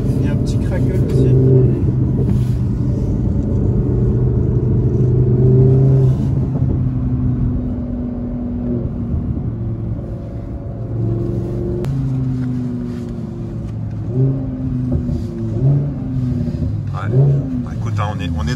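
Audi R8 engine revving repeatedly from inside the cabin, loud low rumble with several rising and falling rev sweeps over about eighteen seconds, someone talking throughout.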